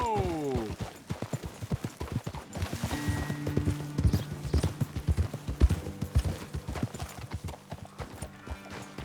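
Horse hooves clip-clop in Red Dead Redemption 2 as riders slow to a halt, a dense run of hard, close hoofbeats, with a brief whinny at the start and steadier stepping after.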